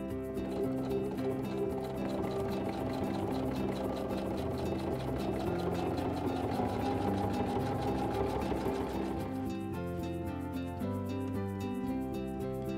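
Baby Lock sewing machine stitching parallel rows on fabric with a Bi-Level Foot, a steady, rapid mechanical chatter running continuously and close, then easing to a lighter rhythm near the end.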